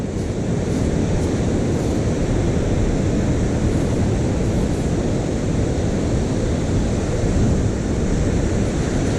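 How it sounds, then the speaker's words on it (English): Winter wind blowing hard on a beach, a constant loud roar of gusts buffeting the microphone, with surf blended in and no voices. "The wind is blowing."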